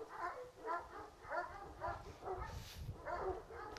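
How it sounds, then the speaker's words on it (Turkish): Dogs bark outdoors guarding their territory, a steady run of repeated barks and yips at moderate distance, with some talk mixed in. "İki tane köpek orada, hemen Hazar."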